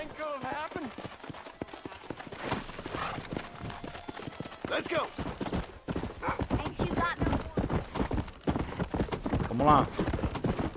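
A horse gallops in the Western video game Red Dead Redemption, its steady clip-clop of hooves running throughout along with a whinny or two, while someone talks over the top.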